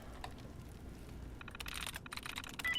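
Rapid keyboard typing at a terminal in Fallout 4, a quiet background hum giving way to dense, uneven bursts of clicky keystrokes that grow busier toward the end.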